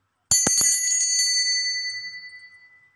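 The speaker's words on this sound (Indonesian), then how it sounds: "saya akan melanjutkan dengan ditandai lonceng berbunyi" A single metal bell is struck a few times in quick succession, then rings out with a long, clear, slowly fading shimmer, close and alone in quiet.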